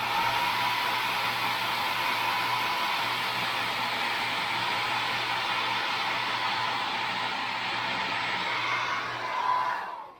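A hair dryer blows steadily on paint on a carved wooden caricature cowboy bust, a loud continuous whooshing hum that holds for about ten seconds before cutting off.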